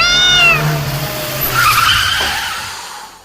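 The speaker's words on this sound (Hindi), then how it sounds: "तभी अचानक से उनकी गाड़ी के आगे एक काली बिल्ली आ गई" A black cat's loud meow cuts off into a sharp screeching tire skid from a car braking hard on a rural road, a short close sound effect fading out.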